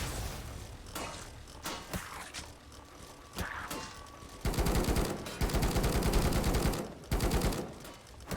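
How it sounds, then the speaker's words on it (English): A mortar repeatedly firing at giants in the zombie survival game Night of the Dead, sharp thuds at first, then dense rapid volleys of gunfire near the end, loud and busy. "that one mortar is the only thing that's really shooting at the giants right now"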